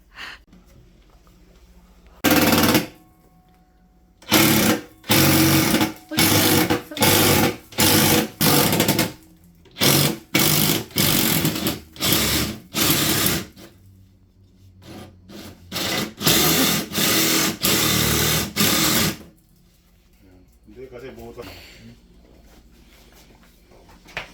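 Repeated short bursts of a power saw cutting through wood, each lasting about a second with brief pauses between, loud and close.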